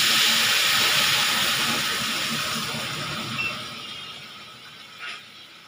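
Fried spices in a cooking pot hiss and sizzle steadily as water is poured in, a close broadband sizzle that gradually fades, with a couple of brief louder spits near the end and no talking.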